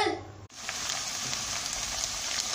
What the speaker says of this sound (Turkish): Yağ ile birlikte kavurmaya başlayacağım.